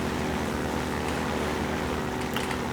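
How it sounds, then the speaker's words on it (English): The engine of the buggy in Half-Life 2 gives a steady, loud, rushing rumble that holds without a break throughout, with no talking. "That's what it would sound like if I was driving the buggy."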